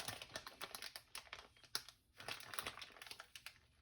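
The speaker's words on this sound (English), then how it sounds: "We try to get as much air out of the bag as we can." Plastic bag holding moose kidney in brine squeezed by hand to push the air out, giving faint, close crinkling in short irregular bursts.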